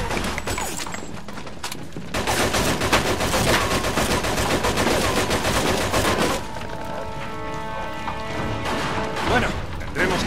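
Gunfire in the video game Mafia 2: a sustained, loud barrage of rapid automatic shots with sharp cracks, thinning toward the end, while voices shout and talk over it.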